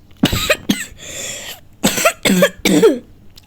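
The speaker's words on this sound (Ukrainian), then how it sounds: "Кстати, буду часто кашляти." Six or seven loud, harsh coughs in uneven bursts, some closely spaced and others spread out, heard up close with no talking between them.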